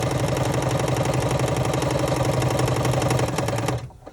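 A sewing machine stitches a braid clutch lining in a fast, loud, continuous mechanical chatter at close range before slowing and stopping near the end.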